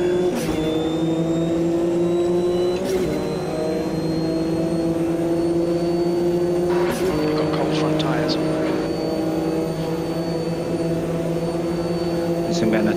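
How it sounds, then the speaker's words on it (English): A big-block GTO race car in Automobilista 2 at Le Mans, its engine droning loud and steady with a strong harmonic whine that climbs through the gears and shifts pitch at each change, under continuous commentary from a driver. "The engine in that thing is like a hammer"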